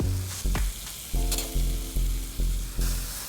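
Sausage, garlic and vegetables frying in a pan for a Korean sausage stir-fry, a steady close sizzle broken by a series of regular scraping stirs or tosses roughly every half second, with no talking.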